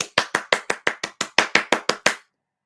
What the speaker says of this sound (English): Clap for my girl.